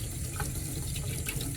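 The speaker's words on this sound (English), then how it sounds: "all I'm gonna do is gonna take some warm water" Warm water runs steadily from a sink tap to wet a trumpet valve brush, a close, continuous rushing splash with no voices.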